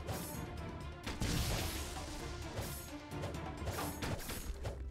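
Combat in the Roblox game Lost Souls, attacking hollows: a busy stream of smashing hits, whacks and mechanical clatter keeps up steadily and loud throughout.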